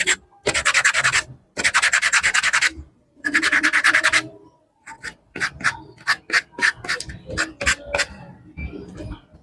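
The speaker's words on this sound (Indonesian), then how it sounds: "kita amplas dulu ininya" Sanding a turned workpiece spinning on a Mollar MLR-WL550 wood lathe: three long, loud abrasive rubbing bursts followed by a quick series of shorter scratchy strokes, close to the microphone and with no talking.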